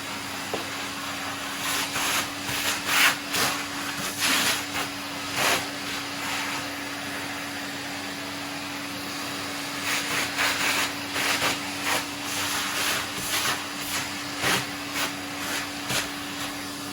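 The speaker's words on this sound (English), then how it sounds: "And of course tidy up with that hoover." Household vacuum cleaner, used to tidy a model railway layout, drones steadily for the whole stretch with a constant hum, its pitch and intensity surging in bursts as the nozzle moves, fairly close.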